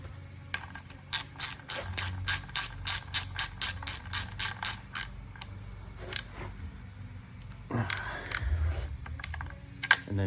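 A hand ratchet tightening a reused drain plug in a helicoil-repaired oil pan, a rapid run of crisp close clicks, then a pause and a few scraping, clunking tool sounds.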